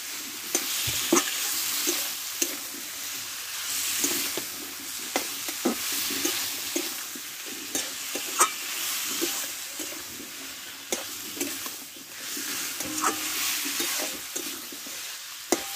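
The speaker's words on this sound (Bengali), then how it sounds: "মশলার সঙ্গে ভালোভাবে আমি কষে দেবো।" Fresh amaranth stems frying with spices in a Bengali-style dish, with a continuous close sizzle and repeated sharp scrapes and knocks of a spatula stirring in the pan.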